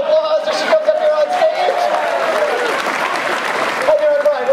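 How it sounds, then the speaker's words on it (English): An audience applauds steadily as a volunteer walks up onto a stage at a live magic show, a dense, continuous clatter of clapping with a few cheers, while a sustained tone runs under it. "Let's give her a big round of applause as she comes up here on"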